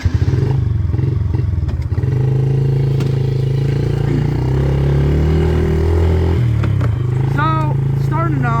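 A Yamaha dirt bike engine runs loudly and close, a steady rough motorcycle drone with shifts in pitch as the rider goes, and a person talks over it near the end.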